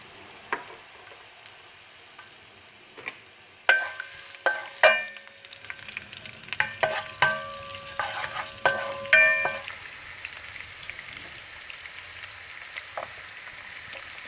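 Onions dropped into hot oil for fish sarciado, a quiet start then a burst of loud crackling and spitting with sharp pops and clinks, settling into a softer steady sizzle, close up with no speech.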